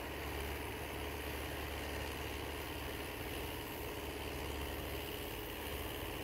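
A Belarus 520 farm tractor's diesel engine idles in a steady, even drone, loud and close, running without change or pause.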